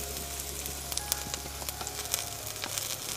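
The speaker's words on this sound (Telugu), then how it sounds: "ఇదంతా ఒక 2-3 నిమిషాలు బాగా వేయించుకోవాలండి." Sliced onions, green chillies and chamaku leaves fry together in a pan, giving a steady close sizzle with scattered sharp crackles and pops and occasional stirring, without any voices.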